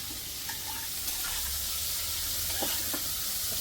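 Cabbage, carrot and capsicum frying in a pan, a steady soft sizzle with a few light stirring clinks, fairly quiet and without talk.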